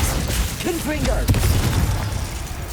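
A Confringo fire spell blasts off in Hogwarts Legacy, a short sharp burst near the middle. It is set against game ambience, and a voice is heard just before it.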